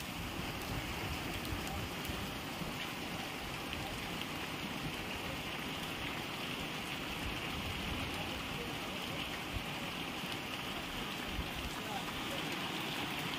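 Rain falling steadily in heavy monsoon weather, a continuous dense hiss of drops on surfaces that holds at an even level throughout, with no talking over it.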